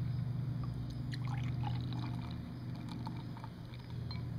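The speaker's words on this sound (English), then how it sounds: "A generous pour." Liquid is poured generously while Texas hash is being made, a soft, steady trickle and splash under a continuous low hum, fairly faint throughout.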